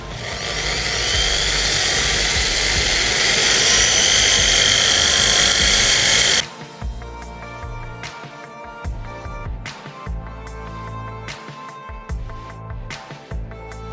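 A high-pitched power sander whines and grinds steadily on a fiberglass fishing rod for about six seconds, then cuts off, leaving quieter scattered clatter and handling noises.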